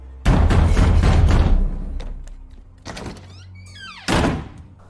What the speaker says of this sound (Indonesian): ia mendengar suatu suara ketukan yang membuat dirinya ketakutan